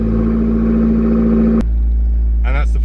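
An Abarth 124 Spider with a TMC remap and sport catalytic converter, roof down, holds a loud steady engine drone that cuts off abruptly, then idles low while a dog whines nearby.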